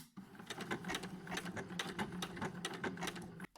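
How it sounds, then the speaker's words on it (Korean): A sewing machine stitches a blanket-stitch applique onto an apron in a fast, even run of close mechanical clatter that lasts about three seconds and then stops. "앞치마 여기 끝까지 여기까지만 꼬매겠습니다."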